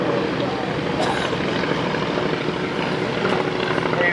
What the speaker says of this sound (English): 4 airplanes flying as one.